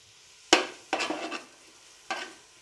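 Whole black peppercorns and green cardamom pods hitting a hot pot for sautéing, three sharp sizzling bursts with brief stirring scrapes between them, close and clear with no talking.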